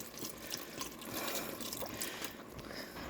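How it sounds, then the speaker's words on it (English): Beef stock is poured into a hot cooking pot to deglaze it, giving a soft continuous splashing and sizzling trickle, quiet and close with no voices. "I'm going to add half of the beef stock to kind of deglaze."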